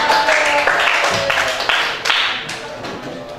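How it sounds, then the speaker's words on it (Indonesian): A classroom group claps briefly for a student team at a vocational high school, a short, dense patter of hands that fades toward the end. "Beri tepuk tangan untuk kelompok 2."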